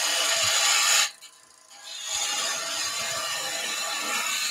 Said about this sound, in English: Spindle gouge or bowl gouge just to bring the curve around